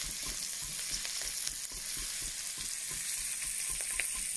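Garlic and asparagus tops fry in butter in a pan, giving a steady, close sizzle with faint crackles throughout and no talking.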